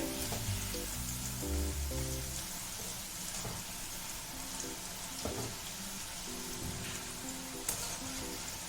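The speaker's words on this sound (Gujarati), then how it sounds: "ચિપ્સ આપણી એકદમ ક્રિસ્પી થાય ત્યાં સુધી આપણે તેને તળવાની છે" Potato chips deep-fry in oil with a steady, faint sizzle and bubbling, heard alone under low background music.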